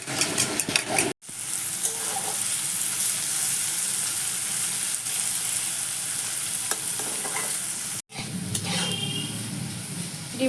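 Potatoes frying crisp and red in a pan give a steady, loud sizzle with occasional stirring scrapes, cut by two brief silences.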